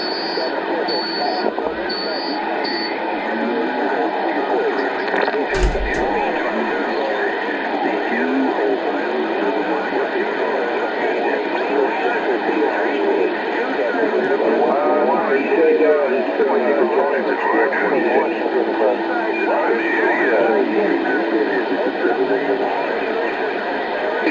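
Continuous CB radio reception through a homemade 9-foot tank whip antenna: a dense, crackly band of radio voices and static running steadily throughout, with a brief burst near the middle.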